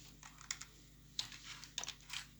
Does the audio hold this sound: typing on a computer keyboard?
yes